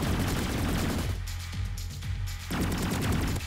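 Energy assault gun in a video game firing steady, dense automatic bursts that fill the clip, briefly dropping back before resuming at full volume.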